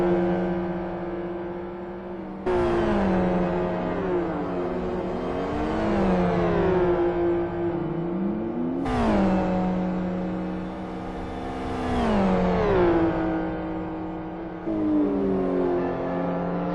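Simulated race cars in a Gran Turismo amateur league race roar past, with high-pitched engine notes that rise and fall through repeated upshifts and downshifts. Several cars run close together and their engine tones overlap.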